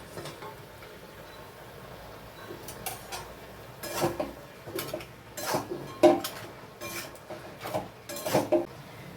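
A spatula clinks and scrapes in a pan while a fish head is stir-fried with malabar spinach. The close, uneven taps start sparse and grow busier and louder toward the end, with no one talking.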